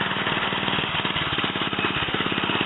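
A small gas-powered bicycle engine on a custom pusher-trailer bike runs steadily with a rough, buzzing, rapid putter, close and loud throughout.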